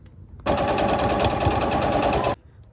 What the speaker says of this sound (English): now just to sew all around the edges